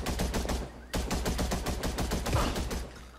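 Rapid automatic gunfire in a mobile GTA-style shooter video game, a steady close burst of shots with a brief break near the one-second mark, loud and continuous.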